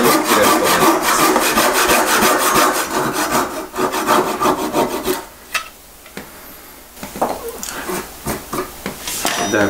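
A hand saw cuts through a wooden blank being shaped into a wooden spoon, its close, loud rhythmic rasping strokes running steadily before giving way to quieter, scattered scraping and brief pauses.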